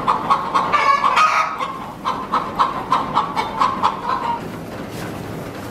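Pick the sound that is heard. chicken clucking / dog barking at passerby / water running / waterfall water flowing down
chicken clucking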